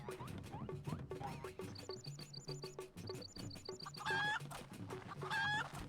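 A chicken clucks repeatedly in short, choppy bursts, with bright electronic chirps and tonal blips layered over it, and no one speaks.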